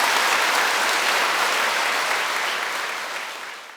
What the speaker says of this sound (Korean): 이 세 분에게도 큰 박수를 쳐드렸으면 좋겠습니다